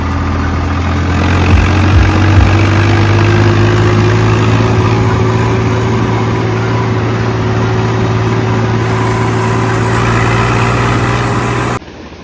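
A tractor engine runs on a paddy farm field with a steady, loud, close idling drone that holds evenly throughout, then cuts off abruptly near the end. No one speaks.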